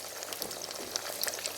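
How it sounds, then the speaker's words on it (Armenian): Carrots fry in a hot pan with a dense, steady sizzle and crackle, close and continuous, with faint stirring and no talk. "Ավելացնենք գազարներ"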